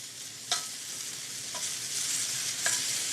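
Shrimp sizzling on a grill, a continuous hiss with a few sharp clicks and taps as pieces are turned over, close and fairly quiet.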